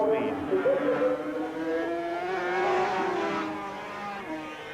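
Racing motorcycles pass at Donington, their engines howling with rising and falling pitch as they go by, loud and close, while a commentator talks over the racket.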